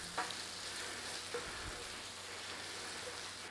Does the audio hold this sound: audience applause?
no